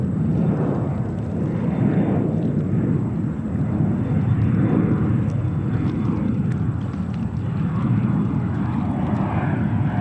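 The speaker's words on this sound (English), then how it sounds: "What you miss on a takeoff right now is a Delta connection, Embraer 175." Delta Connection Embraer 175 jet taking off at JFK airport, a loud, sustained engine roar with a steady whine, continuous for the whole stretch and close by.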